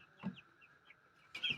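Chickens about 40 days old cluck softly in a small poultry farm, a few faint, brief calls with a slightly louder burst at the end.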